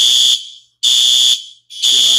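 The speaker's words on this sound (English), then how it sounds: "The alarms are going off" An apartment building fire alarm blares in three loud, piercing high-pitched pulses separated by short silences, close and insistent.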